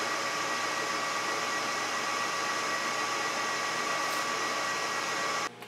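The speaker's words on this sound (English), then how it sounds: "Make sure that there is oil on the tool and slowly make a small peck." A lathe runs steadily while an oiled drill bit held in a locked tailstock slowly pecks into a metal part, a constant machine whine and hiss that cuts off abruptly at the very end.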